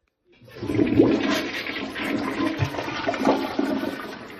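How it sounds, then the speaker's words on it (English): An AMPFORCE electric air-pressure toilet plunger, adjustable from 1 to 8 bar, fires into a clogged toilet: a sudden loud rush of water and air surges after a moment of silence and churns for about four seconds. "Here we go, trying to plunge this thing."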